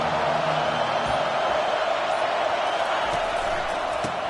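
Stadium crowd in the College Football 25 video game, a dense, continuous roar that stays loud and even throughout, with no clear talk over it.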